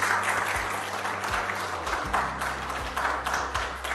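Sustained applause from an audience at a gathering honouring Dr. Saqib Ansari, a thalassemia doctor, dense steady clapping continuing throughout with a few sharper claps standing out.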